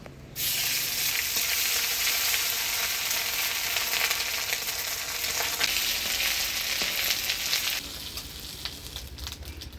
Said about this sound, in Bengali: হালকা আছে এই ডিমের ছড়াটা ভেজে নিব